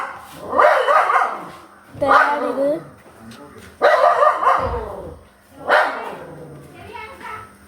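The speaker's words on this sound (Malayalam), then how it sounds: "അപ്പുറത്തെ കുരയ്ക്കണതാണ് ഫ്രണ്ട്സ്" A dog next door barks in a series of loud, close yaps and whimpers in several bursts, while a person talks over and between the barks.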